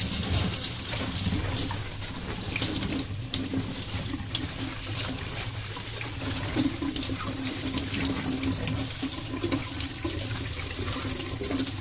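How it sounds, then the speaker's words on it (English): Chinese cabbage leaves being washed under a running kitchen tap, a steady close hiss and splash of water into the sink that continues throughout with no talking. "the rest of the leaves, we are now simply going to wash them"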